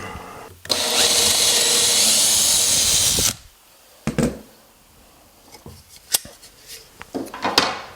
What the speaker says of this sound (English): drill the rest of these holes